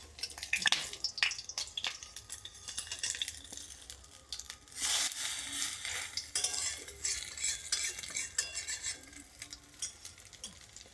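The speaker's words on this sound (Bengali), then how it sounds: "অল্প আঁচে আস্তে আস্তে ভাজতে হবে।" Potato-filled bread chop frying slowly in a pan over low heat, soft sizzling under repeated scraping, clinking and rustling as the pieces are handled and turned, close and fairly quiet.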